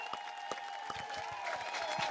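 A crowd gathered to celebrate an equality mural in Torrington applauds faintly from a distance, with scattered claps over a steady background hum.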